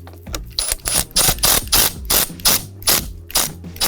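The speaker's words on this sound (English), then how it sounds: "use our size 11 socket to firmly tighten it in place" A size 11 socket on a ratchet tightens a nut onto the battery terminal post of a 2024 Ford F-150 Raptor, with a run of close, sharp ratcheting clicks in quick, uneven bursts and no talk.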